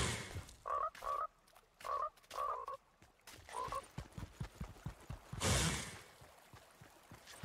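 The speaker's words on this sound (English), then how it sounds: "Froggy froggies." Frogs croaking in the Fortnite Vengeance map (The Northman Viking map), several short paired croaks in a loose rhythm, fairly close, followed by soft footsteps and a brief rush of noise.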